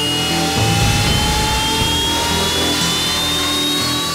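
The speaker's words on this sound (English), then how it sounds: "Engines are started and the aircraft line up for takeoff." Jet engines spool up on the deck of a Royal Navy warship, a loud sustained roar with rising whine tones running steadily throughout, no voices.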